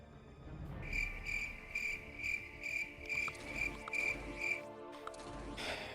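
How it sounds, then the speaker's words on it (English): Crickets chirp as a sound effect, a regular series of about eight short, sharp high chirps evenly spaced, quiet and alone with no talk. "you got the crickets for that one"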